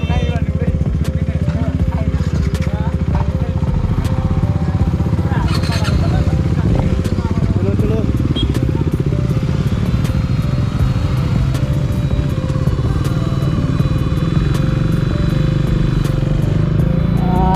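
A motorcycle rumbles steadily on a Sunday ride through Assam, loud engine drone and wind buffeting throughout, with a rider's voice talking over it.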